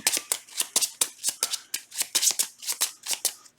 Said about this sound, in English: and then we shuffle this back in